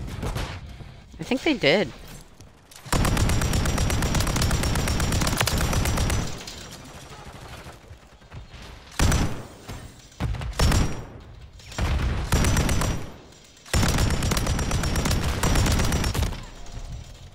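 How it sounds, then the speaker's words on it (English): Gunfire and an explosion in a Call of Duty horde mode match: sustained bursts of automatic fire with heavy booms, broken by short pauses and mixed with a player's voice talking. "enjoy the grenade"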